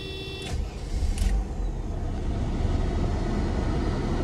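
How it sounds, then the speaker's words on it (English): The engine of a 1992 Mercedes 300 CE idles steadily with a low, even hum, joined by a couple of brief clicks near the start. "this is the motor of the 92 Mercedes"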